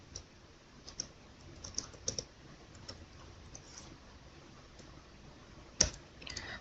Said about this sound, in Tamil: ஸோ இங்கே வந்துட்டு நம்ம யூ ஆர் அன் அடல்ட் அப்படின்னு டைப் பண்ணலாம்.